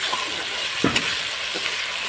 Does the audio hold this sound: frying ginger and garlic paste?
yes